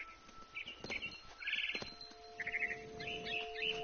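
A mother bird chirping in the video game What Remains of Edith Finch, several bright tweets in short bursts over a faint airy background, with no talking.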